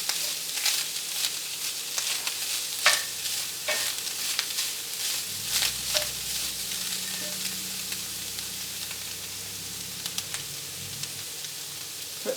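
Ground beef frying with onions and peppers in a pan for Southern sloppy joes, stirred throughout: a steady, moderate sizzle broken by repeated scraping strokes of a utensil, with no voices.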